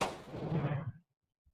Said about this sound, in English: That was 5 rounds and they all went off.